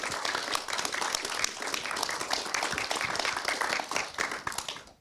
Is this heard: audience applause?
yes